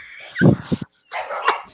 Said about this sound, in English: a door slammed over here and then your dogs barked